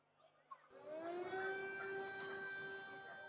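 Air raid sirens wail across Lviv in western Ukraine, a sustained droning tone that starts abruptly after a brief quiet stretch with a faint knock, then holds steady and fairly distant.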